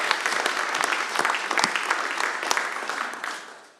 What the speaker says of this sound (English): Let's give a big round of applause to Mr.